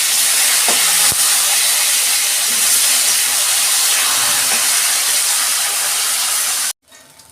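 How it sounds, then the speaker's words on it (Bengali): Pieces of katla fish fry in hot oil with a loud, steady sizzling hiss. The hiss runs almost unbroken, then cuts off abruptly near the end. "এই যে মাছগুলো আমি উল্টে দিচ্ছি।"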